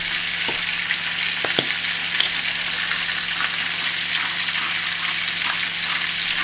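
Chicken pieces browning in a hot frying pan, a continuous even sizzle with a few soft taps early on, close and steady throughout.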